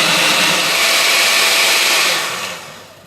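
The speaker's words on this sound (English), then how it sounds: "this blender took 3 pretty big size tomatoes" An electric blender whirs loudly and steadily, blending big tomatoes, cucumber and green pepper for gazpacho, then the motor winds down over the final second.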